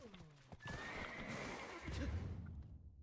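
In a video game, a horse gives one clear, falling whinny, then its hooves clip-clop in a quick, close rhythm as it moves off, fairly quiet and with no talk.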